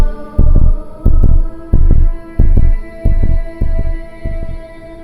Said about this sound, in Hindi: उसके दिल की धड़कन बहुत तेज हो जाती है